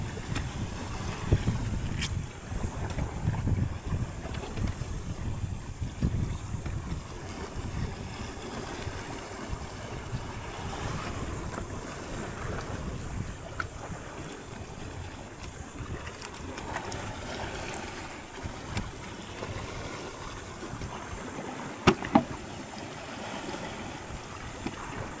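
Strong wind buffets the microphone on a fishing boat at sea, a continuous gusting rumble with lapping water and intermittent knocks from the boat. No one speaks.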